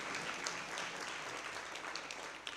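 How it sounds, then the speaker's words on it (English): An audience at a public lecture applauds with a steady, even wash of clapping that holds for the whole stretch at moderate level. "you can applaud that. It's quite in order."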